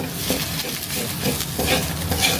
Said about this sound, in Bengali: পাতাটা কিন্তু খুবই ভালোভাবে ভাজা হয়ে গেছে